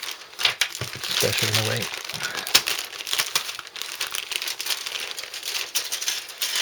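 A sealed plastic bag from a Hasegawa P-51D model kit cut open with a craft knife, producing close, continuous crinkling and crackling of plastic while someone talks over it.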